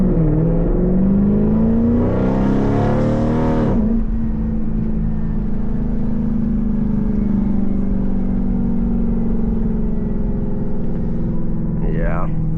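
Jeep with a 5.7 Hemi V8 and Corsa exhaust driving, a steady close drone with engine harmonics that climb as it revs early on, then settle into a constant cruise hum, with a voice talking over it.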